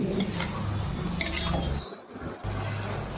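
A lid set onto a cooking pot during Bengali vegetarian cooking gives a few light metallic clinks against steady kitchen background noise, with no talking.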